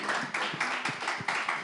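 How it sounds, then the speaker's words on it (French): Small audience claps for Maman Suzanne, light, uneven handclaps in distinct clusters, fairly faint and close. "Est-ce qu'on peut applaudir maman Suzanne?"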